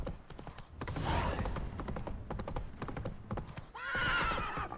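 Roach, Geralt's horse in the video game The Witcher 3, trots with steady clip-clop hoofbeats and whinnies twice, close and loud, with rhythmic hooves running throughout.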